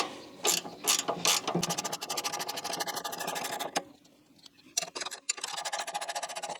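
A ratcheting spanner clicks rapidly and close while loosening a bolt on a Cobra Fortis 17E cordless lawnmower, in several bursts of fast ticking separated by brief pauses.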